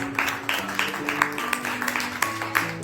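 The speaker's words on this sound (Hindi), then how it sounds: "जोरदार तालियों के साथ में" An audience at a musical evening for Sharad Purnima claps, scattered hand claps ringing out over sustained instrumental tones at moderate volume.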